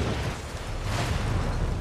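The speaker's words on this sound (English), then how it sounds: "I love how the explosion is completely delayed" A whale oil canister blows up in Dishonored 2, a short, dull, rumbling boom with a low heavy body that sustains briefly rather than a sharp crack, fairly quiet and alone.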